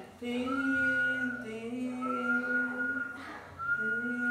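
A person whistles long, steady tones, imitating an eerie call, three sustained notes with brief pauses between, close and clear.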